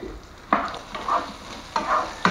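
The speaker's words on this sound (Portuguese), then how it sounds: "O bacon, tá fritando." Bacon sizzles and crackles in a pan alongside sausage for a sausage sauce, with bursts of stirring scrapes at intervals, fairly quiet and close.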